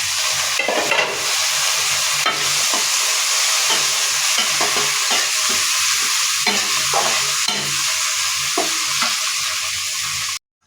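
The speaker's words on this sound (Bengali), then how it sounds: "মটরশুঁটি আর ক্যাপসিকামটা একটু ভালো মতো ভেজে নিলাম।" Peas and capsicum fry in a pan while being stirred: a steady close sizzle with repeated scraping strokes, no voices, cutting off abruptly at the end.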